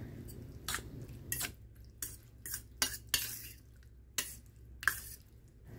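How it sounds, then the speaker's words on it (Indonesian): Beef being stirred with packet black pepper seasoning to mix it evenly. A spoon clinks and scrapes against the dish in quiet, irregular taps and short bursts, close by, with no talking. "setelah dikasih bumbu kemudian ini aku aduk-aduk supaya bumbunya itu tercampur rata ya"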